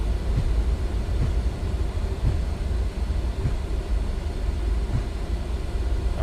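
Simulated Embraer E-Jet airliner on landing rollout with thrust reversers and manual braking, a loud continuous engine roar and rumble with low, periodic thumps of wheels over the runway.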